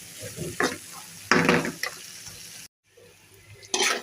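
Egg and potato spiced bhaji sizzles in a pan while a spatula stirs it in short scraping bursts, broken by a brief quiet gap before another stir.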